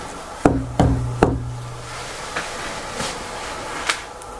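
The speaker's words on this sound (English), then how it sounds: "If I knock on that door, can you knock back?" Three sharp knocks on a door in an abandoned, reputedly haunted village ring out in quick succession, each with a short low resonance, followed by a few fainter scattered taps against quiet background noise.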